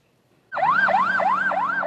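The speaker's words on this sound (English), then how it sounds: "Before the ambulance siren blares, before the first fire truck leaves the station" Ambulance siren bursts in after a short silence and wails steadily in rising and falling sweeps, loud and close with no other sound.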